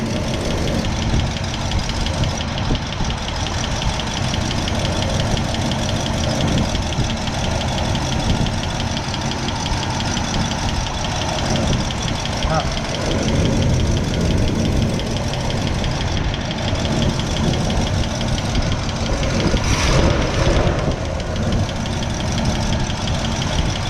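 A car engine idles with its lifters and cam exposed, giving a steady close mechanical run with a fast rhythmic ticking and knocking over a constant hum for the whole stretch.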